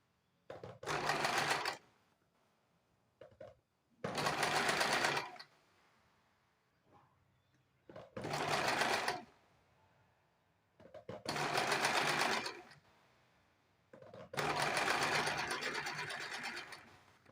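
A sewing machine stitches piping strip around a blouse neckline in five loud bursts of a few seconds each, separated by quiet pauses.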